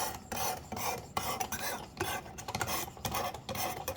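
A knife blade is drawn over the abrasive of a Work Sharp Precision Adjust sharpener at a 15-degree angle, producing repeated close, gritty rasping strokes in an even back-and-forth rhythm with no talking.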